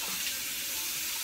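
Tap water runs steadily over mushrooms being washed in a kitchen sink, a soft, even hiss of flowing water lasting about a second.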